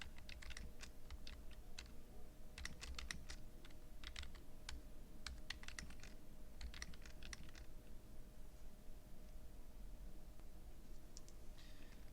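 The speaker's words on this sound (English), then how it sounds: "We'll just go ahead and type a sample question here." Clusters of quick, light key clicks come from a computer keyboard as a question is typed, in irregular bursts with short pauses between them, close and quiet over a faint steady hum.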